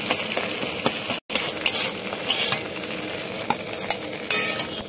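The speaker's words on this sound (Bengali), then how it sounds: "বন্ধুরা এই রান্নাটা আমি সাদা তেল দিয়ে করব।" Beaten egg omelette fries in white oil in a pan, a continuous hissing sizzle with occasional stirring scrapes and one brief cut to silence.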